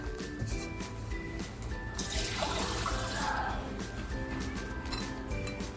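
Water runs and splashes for a couple of seconds as it is poured into instant dosa batter in a home kitchen, a soft liquid rush over a steady background with no talking.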